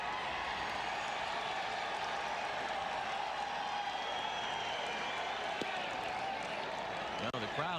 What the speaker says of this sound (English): Now the crowd is rumbling down there.